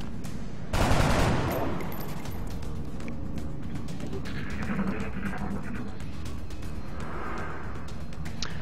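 Gunfire in the turn-based video game XCOM: Long War, a loud single burst of shots followed by a lingering rumble and game ambience.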